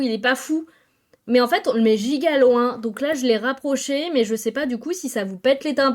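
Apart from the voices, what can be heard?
No distinct noise like a dog, phone or traffic.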